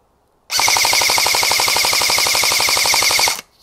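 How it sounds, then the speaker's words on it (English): Sustained full-auto gunfire rattles in a rapid, even stream of shots for about three seconds until it stops abruptly, loud and close with no talking. "we're gonna do full auto basically until the mag runs out"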